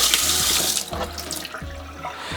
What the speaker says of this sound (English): So I'm gonna rinse it through.